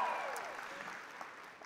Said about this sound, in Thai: เอาปรบมือส่งเสียงดังๆหน่อยดังๆเลย